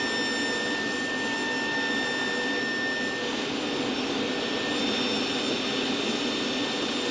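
A table saw or similar saw cuts the sides of a wooden fitted-lid domino box to equal length against a stop block, a steady loud whining roar that holds throughout without pauses or talk.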